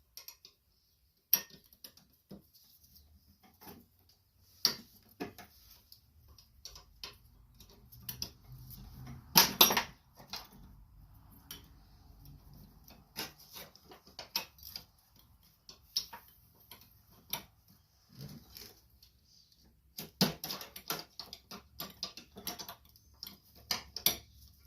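A ratcheting wrench loosens the belt pulley on the 48-inch mower deck of a John Deere LT180 riding mower, giving a long run of faint, quick clicks in bursts, close by.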